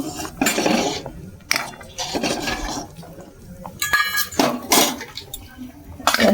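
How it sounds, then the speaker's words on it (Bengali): Carrot and vermicelli halwa is stirred in a metal pan, giving repeated clinking, scraping strokes of a spoon against the pan in uneven bursts. "ভালো করে নেড়ে সেরে নেব"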